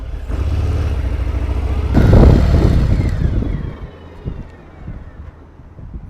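A 2018 Harley-Davidson Fat Bob with the 114 motor rumbles along under heavy wind rush, swelling louder for a moment before easing back to a lower roar.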